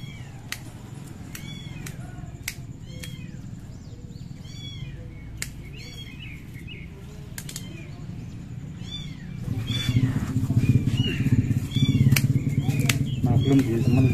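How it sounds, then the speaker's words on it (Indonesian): Several high, thin kitten mews repeat through the clip, some overlapping, with a steady low background hum that grows louder toward the end. "ada banyak suara baby kucing"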